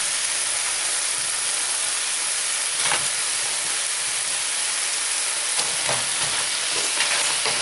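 Fried mushrooms sizzle in chili sauces in a home kitchen pan, a steady loud hiss of frying with occasional stirring scrapes breaking through.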